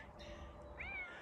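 A cat gives a single short meow partway through, heard close and clear over the soft outdoor background of a summer farm meadow walk.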